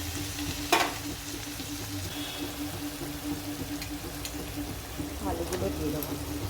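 Water added to ginger, garlic, turmeric, chilli, coriander and cumin frying in a pan for fish curry, a steady close sizzle with a sharp hiss burst early, beneath a person talking.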